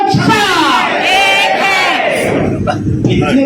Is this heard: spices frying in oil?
no